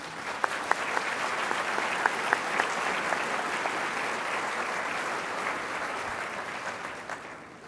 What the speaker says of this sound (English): Let's have a round of applause for all of our title sponsors.